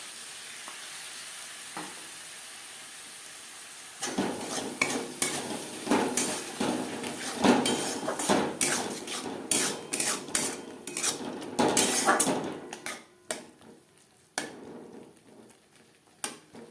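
Egg curry masala with onion, garlic and tomato paste is stirred in a pan over a steady sizzle. A first quiet stretch gives way to a run of rapid, loud metallic spoon clatters and scrapes against the pan, then the stirring tapers off.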